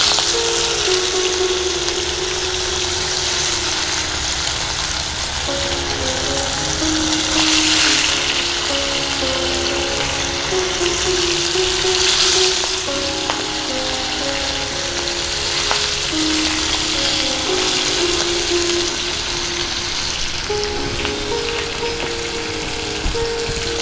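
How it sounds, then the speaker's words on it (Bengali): Fish frying in hot, smoking oil for a Bengali spicy fish curry, a dense, steady sizzle and crackle running continuously and loudly throughout, with no talking. "ধোয়া উঠতে শুরু করে দিয়েছে, তেল গরম হয়ে গেছে, মাছগুলো ছেড়ে দিচ্ছি"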